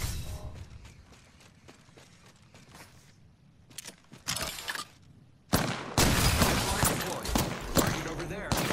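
Gunfire in a battle royale video game comes first as scattered shots and then as heavy loud rapid bursts, with players talking over the action.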